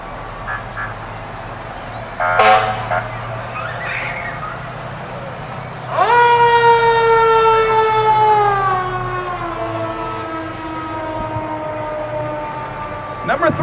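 Fergus Falls fire engine number 2 in a summer festival parade, its siren winding up sharply and wailing for a couple of seconds before slowly falling, with a brief horn-like blast earlier and outdoor crowd noise throughout.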